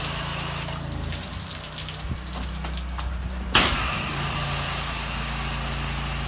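Water sprays steadily from a hose to wet down a bleach-washed stained ceiling, a continuous hiss with a low engine-like hum beneath and a sharp surge partway through, no talking.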